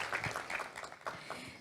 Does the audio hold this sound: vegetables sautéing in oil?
no